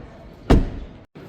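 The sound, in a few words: BMW X1 M35i car door being shut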